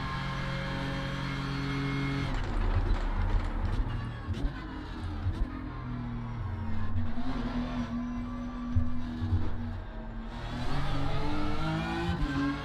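BMW M4 GT3 race car engine in iRacing, a steady droning howl with rising and falling revs through gear changes, loud and continuous throughout.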